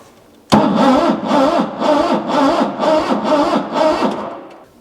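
A cold engine with conventional oil and low on fuel cranks hard on a jump pack boost, a rapid rhythmic churning that carries on for about four seconds, loud and close, before trailing off.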